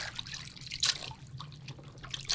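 Water drips and trickles softly while oxygen tubing is rinsed in a basin of clean water, with a few brighter splashes standing out over a faint steady background.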